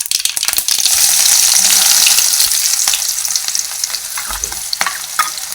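Chopped onions hit hot oil already seasoned with cumin and mustard seeds, giving a loud, steady sizzle and crackle with scattered stirring scrapes and no talking.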